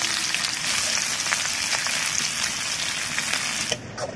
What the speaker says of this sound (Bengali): তেল গরম হয়ে গেছে, দুটো তেজপাতা দিয়ে দিচ্ছি। এর মধ্যে কোচানো পেঁয়াজটা দিয়ে দিব।